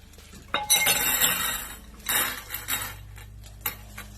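Clear decorative glass rocks, light pink and white, tumble with bright clinks into a thrifted ivory bowl in two loud bursts, followed by a few lighter scattered taps.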